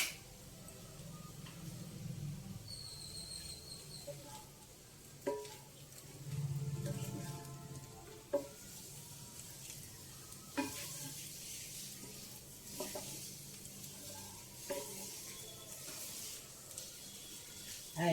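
Cabbage, coconut and chana dal curry sizzles softly in a pan on the stove, a faint continuous fry punctuated by occasional stirring scrapes and clinks, close and quiet.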